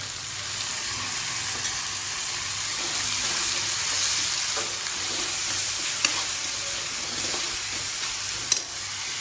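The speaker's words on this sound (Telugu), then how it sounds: "ఉప్పు కావలసినంత వేసుకొని ఒకసారి కలిపి ఎక్కువ సమయం ఇవ్వకుండానే టమాటా ముక్కలు వేసుకున్నాను" Tomato pieces frying in a pan of spiced oil with turmeric, chilli powder and salt for a prawn and ridge gourd curry, giving a steady close sizzle with faint stirring clicks throughout.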